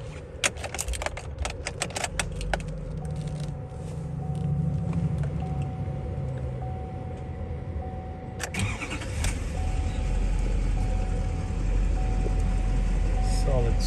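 A Chevrolet Silverado 2500HD LT pickup's engine cranks and catches, then settles into a steady, close idle rumble, with keys jangling briefly at the start.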